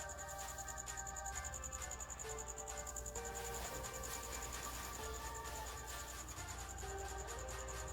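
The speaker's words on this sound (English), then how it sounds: "Don't mind the cricket, he's right above me. He's being loud." Cricket chirping loudly and close overhead in a garage during a Jeep Grand Cherokee differential fluid change, a steady high pulsing trill running continuously with no talk.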